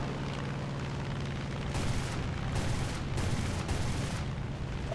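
In War Thunder tank combat, a tank gun fires and a hit detonates an enemy ammo rack, heard as a series of rumbling booms and bursts over steady engine drone, fairly faint and with no talk.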